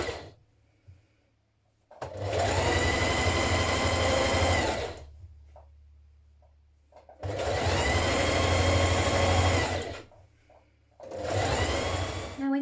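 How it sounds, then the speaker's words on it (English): A sewing machine runs a long straight seam along the side of a fabric scarf with about a 1.5 cm seam allowance, in three steady close bursts of motor hum and needle rattle separated by short quiet pauses. "we're going to sew that all the way along now"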